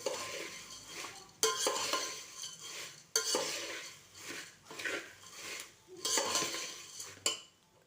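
Puffed rice (murmure) is stirred constantly in a pan over a low flame, rhythmic scraping and rustling sweeps with metallic utensil clanks at the start of each stroke, close and moderately loud.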